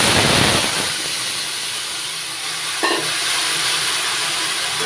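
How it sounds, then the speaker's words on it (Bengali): Curry poured into hot oil sizzles and hisses loudly and continuously, with a brief stirring clatter midway and no talking. "তরকারিটা ঢেলে দিচ্ছি।"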